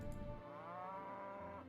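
A cow's drawn-out moo in a visual novel game, one long wavering low call heard alone over a faint background hum.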